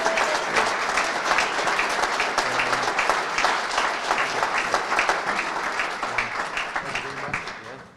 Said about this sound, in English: big round of applause for how good we look